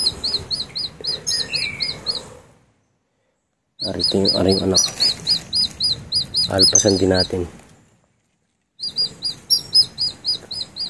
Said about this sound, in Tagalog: Ay nag-iiyak yung sisiw.